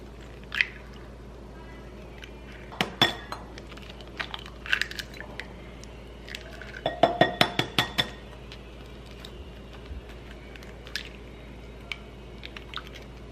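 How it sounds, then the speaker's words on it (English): Eggs cracked one after another into a bowl while making milanesa: a handful of sharp, quiet cracks and clinks scattered across the stretch, with a tight cluster of taps in the middle and no talking. "So I'm gonna start throwing my eggs in here."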